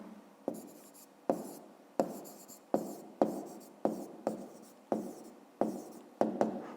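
Pen or pencil writing by hand on paper during a fifth-grade maths exercise, a quiet, close series of scratchy strokes with sharp onsets at an uneven rhythm, about a dozen marks, with no talking.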